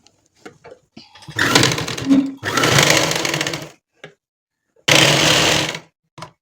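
A sewing machine stitches the shoulder seam of a nighty (maxi) in several loud bursts of running, separated by short pauses and light handling clicks.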